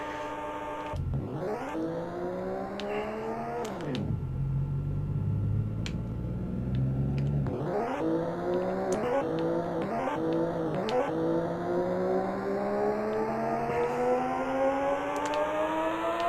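A racing car engine in a 3DO racing game whines and climbs through the revs, drops suddenly between gear changes, then rises again in long rising sweeps, loud and steady with no talk.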